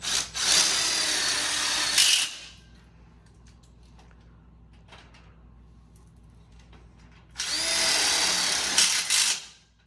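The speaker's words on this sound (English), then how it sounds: "So now with it clamped in here, I'll go ahead and screw it in." Power driver sinking screws into an outdoor kitchen grill frame, with two loud bursts of whirring a few seconds apart and quieter handling noise between them, close by.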